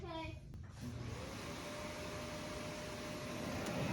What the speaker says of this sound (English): Let's test the Grecell with my vacuum cleaner.